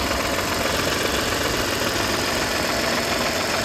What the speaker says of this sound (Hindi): अब हम इसको जो है एक दो घंटे इसी प्रकार से छोड़ देंगे स्टार्टिंग, ताकि इंजन जो है वो रमा होता रहे।